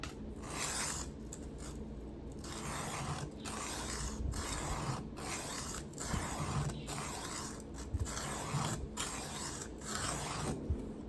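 A Ka-Bar knife blade scrapes back and forth on a 320 grit diamond stone, producing a steady, close gritty rasp broken by brief pauses between strokes, with no talk.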